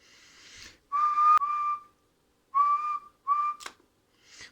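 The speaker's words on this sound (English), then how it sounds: "What happens when we give a whistle?" A steady whistle into an AM radio microphone on transmit, heard as four sustained tones in separate bursts, loud and close with no talk.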